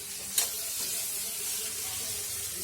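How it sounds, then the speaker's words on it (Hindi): Masala frying in a pan, a steady close sizzle and hiss with one brief utensil tap near the start. "देखिए ये मसाला फ्राई हो गया है"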